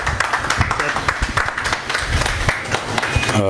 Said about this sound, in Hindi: आप सब की तालियों में खड़े होकर इस्तकबाल करें